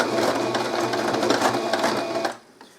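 Domestic sewing machine stitching slowly in reverse while sewing a double-sided fabric placemat, a close, rapid mechanical whirr for about two seconds that then stops abruptly, with no voices.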